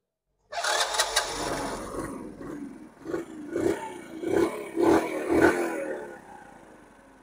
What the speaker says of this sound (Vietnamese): Rồi đem nổ máy nha.